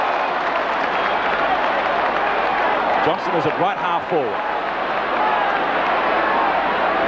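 Carlton supporters at a 1983 VFL football match roar and shout continuously in a dense, loud stadium wash, with a commentator talking over the crowd throughout.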